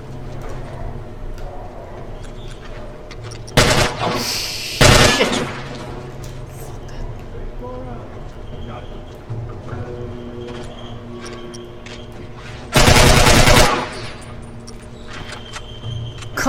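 A powerful gun called El Diablo fires in The Last of Us. Loud broadband blasts come at about 3.7, 4.9 and 13 seconds over steady game ambience, with faint clicks between the shots.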